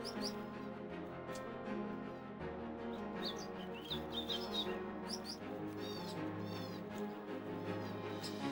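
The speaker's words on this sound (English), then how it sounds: "A young bird arrives and the parents start feeding it." Thin high chirps and tweets from a young bird and its parent birds at feeding time, repeated in brief bursts over a steady low background hum.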